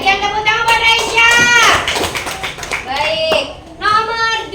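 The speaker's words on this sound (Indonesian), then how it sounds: "Tepuk tangan buat Raisya." Classroom children clap for a classmate in uneven bursts, mixed with lively children's voices and overlapping chatter close by.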